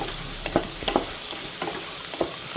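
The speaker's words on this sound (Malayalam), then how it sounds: "ചെറുതായിട്ട് ഇഞ്ചിയുടെയും വെളുത്തുള്ളിയുടെയും ഒക്കെ പച്ചമണം പോകുന്നതും വരെ വഴറ്റി" Coconut pieces with ginger and garlic sautéing in a pan, giving a soft steady sizzle broken by a few light stirring scrapes, close and fairly quiet, with no talking.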